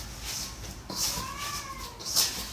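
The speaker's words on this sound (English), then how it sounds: "Can you hear my cat Frankie?" A house cat meows a few times in a home kitchen, two or three drawn-out calls at moderate distance over quiet room tone.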